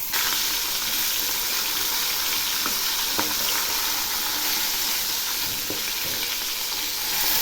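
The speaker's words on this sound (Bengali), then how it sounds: "এক পাশ ভাজা হয়ে গেছে। এবার উল্টে দিচ্ছি।" Fish pieces fry in hot oil in a wok, with a steady, loud sizzle throughout. A few sharp clicks and scrapes come as the pieces are flipped, and no one speaks.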